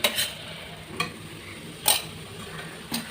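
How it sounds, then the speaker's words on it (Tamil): A spoon stirs yogurt into tomato masala frying in a pan for mutton biryani, with a few sharp scrapes and clinks against the pan over a soft, steady sizzle. "இதையும் இதோட நல்லா கலந்து விட்டுருவோம்."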